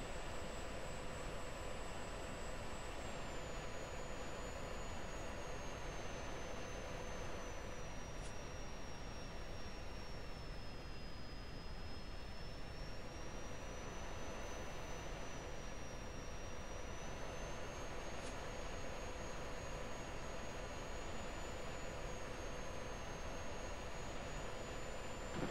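F-16 Viper jet engine in Falcon BMS, a steady loud roar with a high whine that dips and rises, held continuously with no talking.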